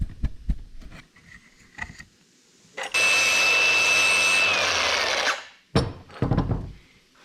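A tungsten welding electrode is sharpened: a loud, steady grinding whir runs for about two and a half seconds, with clunks and handling knocks before and after.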